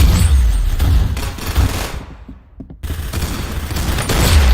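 Loud, dense video game shooter gunfire rattles in rapid bursts with heavy booming low end, dropping away briefly in the middle before the barrage resumes.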